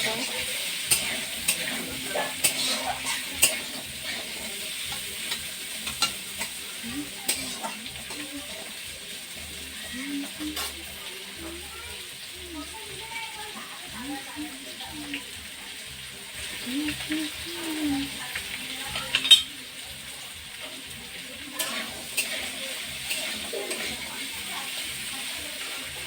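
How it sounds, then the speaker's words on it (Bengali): Potatoes frying in hot oil give a steady, moderately loud sizzle, broken by irregular clicks and scrapes of stirring, with a faint voice now and then in the background. "ওই তেলেতে আলুগুলো যে ভেজে নিচ্ছি ভালো করে।"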